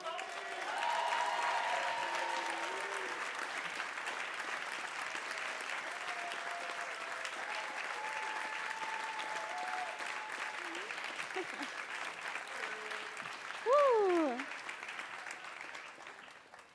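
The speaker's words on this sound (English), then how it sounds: "So can we just do a big round of love and applause for Heidi Esposito?" An audience applauds for Heidi Esposito at a performance of The Velveteen Rabbit, with steady clapping through the whole stretch, a single cheer, and a sudden brief whoop near the end.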